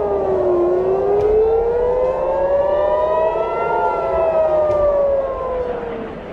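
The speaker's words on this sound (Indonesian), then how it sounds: "Sirene berbunyi" An air raid siren in Israel wails continuously in a loud, rising and falling tone, sounding alone without any voices.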